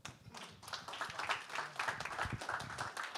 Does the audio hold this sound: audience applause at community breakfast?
yes